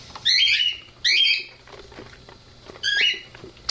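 Pet birds indoors give three harsh, loud squawking calls in separate bursts, each a raspy screech of under half a second, with quiet room noise between and no talking.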